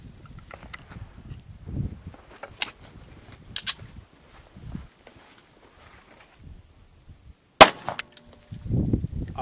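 A 45 ACP Allegiance One Strike bullet is fired through a sheetrock test panel. A single sharp, loud crack comes near the end, preceded by quiet handling noises and light knocks.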